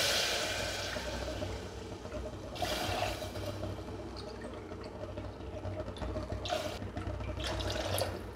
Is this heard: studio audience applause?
no